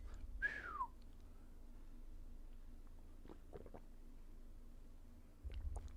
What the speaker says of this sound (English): Can't even whistle.